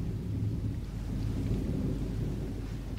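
Thunderstorm with steady rain as a radio-drama sound effect, a continuous low rumble of thunder under dense rainfall, fairly loud and unbroken throughout with no voices.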